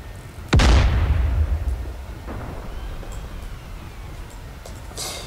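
Artillery firing in DCS: Combined Arms: one loud close boom with a long rumbling decay, followed by fainter distant thumps and a light burst near the end.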